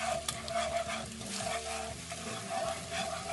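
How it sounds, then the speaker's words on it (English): Chicken tenders with scallions are stirred through a honey mustard sauce in a hot pan, a steady sizzle broken by soft scraping stirs, close and continuous with no speech. "So we get some scallions in there, and then we start incorporating the sauce."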